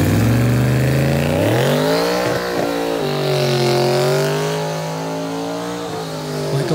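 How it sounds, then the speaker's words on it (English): A 427 cubic inch twin turbocharged LS V8 built for street gasoline and track methanol revs loudly, its pitch climbing and sagging through several throttle blips, heard up close and alone. "427 cubic inch twin turbocharged LS engine."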